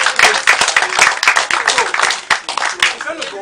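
Applause and clapping from a group of people at a house-show gathering, dense and steady for a few seconds, with voices audible through it.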